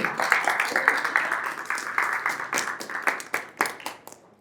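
An audience at a Bible seminar claps, a modest group of hands producing distinct, uneven claps at close range that taper off and stop after a few seconds.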